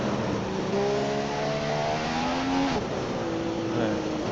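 A Formula 1 car in F1 2015 at the Great Britain circuit exits the pits with a high, steady engine whine that climbs in pitch as it accelerates, continuous and fairly loud, with a voice talking over it.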